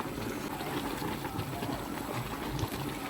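Water with a stone in it bubbles and fizzes vigorously in a steady, close boil, a continuous gurgling churn with no one speaking.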